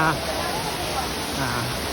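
Sakdisit waterfall in Mukdahan, Thailand, gives a dense, steady roar of falling water that fills the whole short stretch, close and loud without pause.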